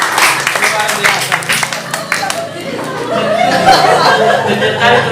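A group of people claps for a presenting group in a classroom or church session, a brief patter of applause mixed with chatter and light laughter.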